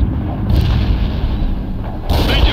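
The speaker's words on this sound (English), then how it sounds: "Medium artillery getting to those coordinates" Artillery fire in the World in Conflict video game, heavy low rumbling booms that roll on continuously with a sharper impact near the end.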